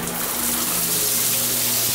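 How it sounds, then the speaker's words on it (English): A shower head in a hotel bathroom sprays water in a steady, broad hiss with a faint low hum beneath, close by and heard alone. "Well, the shower head's nice at least. Works nicely."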